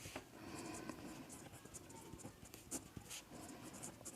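A pen scratches steadily across paper during a maths lesson, close and quiet, with continuous light strokes and small taps.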